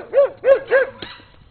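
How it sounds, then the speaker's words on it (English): A dog gives three loud, close barks in quick succession, followed by a short fainter whine. "Now I hear the other dog."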